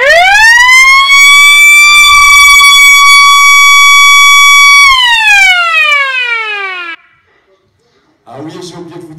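A loud 110-decibel spring-driven electromechanical alarm wails like a siren, rising, holding steady, then winding down and cutting out, followed by a brief noisy burst.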